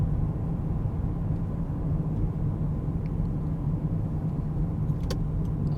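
A car on a town street in Willimantic, Connecticut, drives and turns around, giving a steady low road rumble with no voices.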